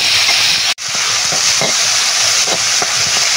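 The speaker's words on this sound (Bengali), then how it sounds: "পেঁয়াজটা নরম হয়ে তাড়াতাড়ি ভাজা হয়ে যাবে" Freshly chopped onions with dried chillies, bay leaves and salt sizzle loudly in hot oil in a wok, a steady broadband frying hiss with occasional stirring scrapes and a brief dropout near the start.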